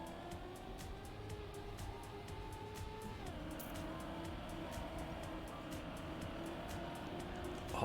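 A race car engine drones in the Trackmania video game, a steady, buzzing tone that drops in pitch once partway through, with a rapid ticking pulse over it, continuous and fairly loud throughout.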